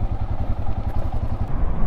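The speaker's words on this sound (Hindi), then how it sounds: "ये सामने बंदा देखो 100 सीसी का बाइक लेके इस टाइप के ट्रिप कर रहा है" A 100cc motorcycle's engine chugs steadily and loudly up close as it climbs a rough mountain road near Darjeeling, its rapid even pulses rattling on without pause.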